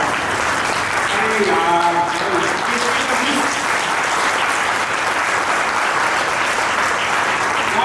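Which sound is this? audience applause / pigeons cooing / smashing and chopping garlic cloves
audience applause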